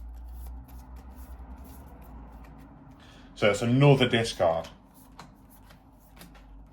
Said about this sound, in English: Shuffle the prize cards.